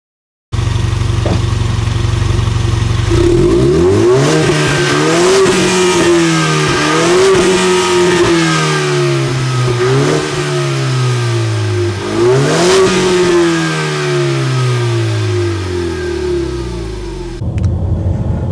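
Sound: Ford Mustang engine revving

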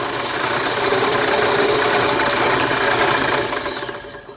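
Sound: disc sander sanding wooden toy

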